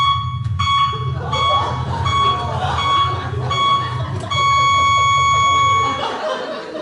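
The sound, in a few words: electronic beep like a car reversing alarm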